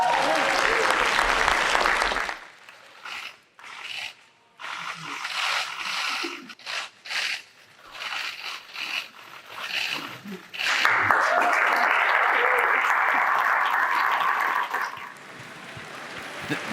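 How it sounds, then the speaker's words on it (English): Audience applause at a university convocation, a loud burst at the start, then talk with scattered claps before a second sustained wave of clapping returns. "Give him a big round of applause."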